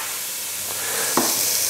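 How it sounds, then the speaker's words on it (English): Onions and leek fry gently in oil in a single pot, a soft steady sizzle close by with a light stir or scrape of a utensil partway through, and no voices. "So I've been gently frying the onions and leek, about 5 minutes really, just slowly starting to soften down"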